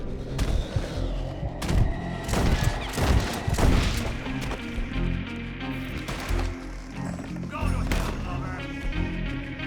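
Gunshots in the western video game Red Dead Redemption 2, several loud sharp cracks spaced a second or so apart against an ambient outdoor backdrop, with no talking between them.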